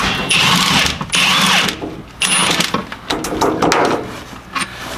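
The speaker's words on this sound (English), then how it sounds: "So I just got to rip that bolt out in the bottom shock" A power tool backs the bottom shock bolt out of a BMW E36 in several loud, close bursts of whirring and rattling, each about a second long, separated by brief pauses.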